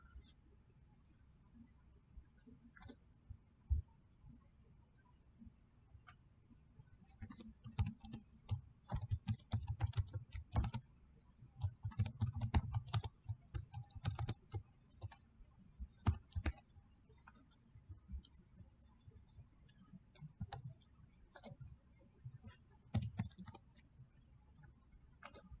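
Typing on a computer keyboard to enter a short dimension note in CAD software, heard as quick, uneven bursts of close key clicks with brief pauses, alone with no talk.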